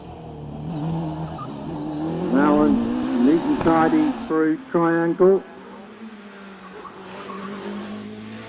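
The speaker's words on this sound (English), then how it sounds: "Hear the engine roaring." Ex-works Bill GR59 hillclimb race car at Loton Park roaring past, with rising and falling engine tones and sharp revving bursts under a commentator talking.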